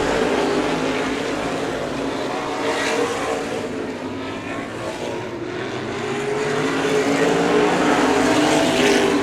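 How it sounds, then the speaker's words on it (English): Open wheel modified race cars roar around Showtime Speedway, a continuous blended engine drone that swells and fades as the pack passes, loud and steady under faint commentary. "Driving it hard into 3"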